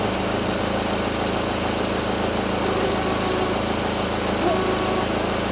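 A steady engine idles close by, a continuous even rumble with no changes in pace.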